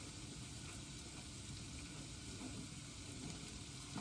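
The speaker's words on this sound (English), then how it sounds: "We're gonna stick that in there and just stir it around" Mild cheddar being stirred into jalapeño cream corn in a hot pan, a steady soft sizzle with faint scraping, quiet and continuous throughout.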